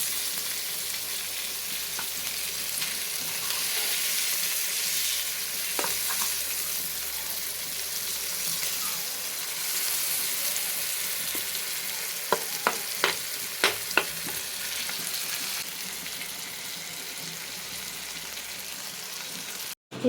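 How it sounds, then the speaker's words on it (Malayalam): Fish fries in hot oil in a pan with a steady, soft sizzle that runs the whole time. A few sharp clinks or taps of a utensil come near the end. "ഇപ്പം നമ്മുടെ മീൻ വറുത്തത് നല്ലോണം വെന്ത് റെഡി ആയിട്ടുണ്ട് കേട്ടോ."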